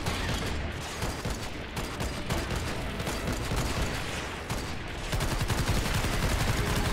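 Defensive turrets and traps in Fortnite fire continuously at approaching husks, a dense, steady stream of rapid gunfire with no pauses, loud and close throughout and no one talking.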